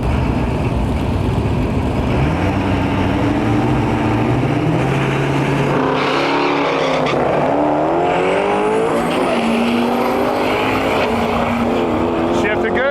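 Duramax diesel-swapped Chevy Nova with a troublesome transmission launching and running down a drag strip, a loud engine roar rising through shifts for about thirteen seconds, with a voice talking over it.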